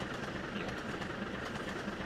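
A train runs along the rails with a steady, continuous rumble and rolling noise that holds evenly throughout, without any voices.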